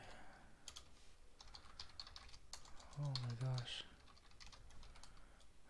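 Quiet, rapid clicking of keys on a computer keyboard runs throughout at a steady uneven pace, with a brief spoken exclamation partway through.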